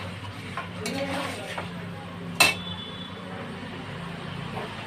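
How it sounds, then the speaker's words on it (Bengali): Chicken and jackfruit with spices are stirred in a pan, giving soft scraping and shuffling with faint sizzling, plus one sharp metallic clink of a utensil against the pan partway through. "তা খুব ভালো করে আমি নেড়ে নেব।"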